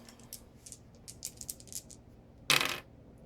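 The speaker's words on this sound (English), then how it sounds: "So this Zeta Squadron pilot here is going to shoot Poe at range band 1. Alright. So 3 dice" Three dice from the Star Wars X-Wing tabletop game are tossed down and rattle together in one short, sharp clatter after a stretch of light clicking, close and without speech.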